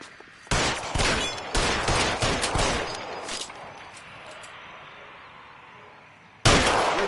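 A close, loud shootout in L.A. Noire, the 1940s Los Angeles crime game, opens with a rapid volley of gunshots. The shots thin into a fading rumble, then a sudden burst of fire cuts back in at the end.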